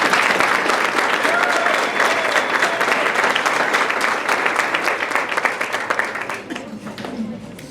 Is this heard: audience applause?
yes